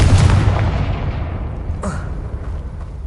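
Confringo blasting curse from Hogwarts Legacy going off as a loud, broad explosive burst at the start that fades into a rumbling tail, with a second sharper crackling blast about two seconds in.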